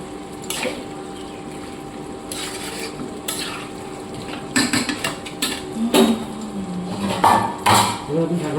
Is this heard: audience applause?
no